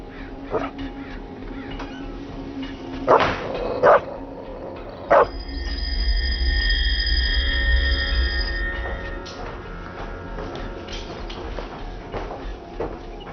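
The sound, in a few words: dog barking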